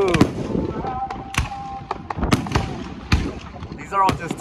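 2.5 inch firework shells and comets burst in quick succession at a 2024 show in Soledad, California: sharp cracks and crackling pops, some with whistling tails, while people talk nearby.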